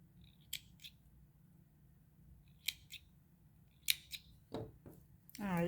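Sharp scissors snip lace thread on a handmade lace flower with a few crisp, close cuts spaced apart and quiet between them, followed by faint handling noise at the end.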